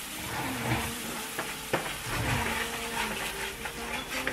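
Mushrooms and flour are stirred in sizzling butter, with a utensil scraping the bottom of the pan for a gluten-free cream of mushroom soup. A continuous close frying hiss carries repeated scrapes.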